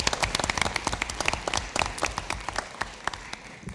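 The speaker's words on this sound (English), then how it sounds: "So let's hear another big round of applause for our dance company students." During a school district board meeting, a modest audience claps for dance company students, with distinct individual claps crackling unevenly and closely, no voices over them.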